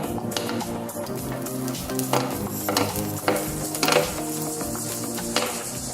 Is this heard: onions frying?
yes